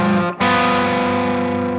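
Electric guitar through a Costalab Dual Drive overdrive pedal in crunch mode with the tone fully open, a single sustained distorted chord ringing out loud and bright after a brief dip at the start.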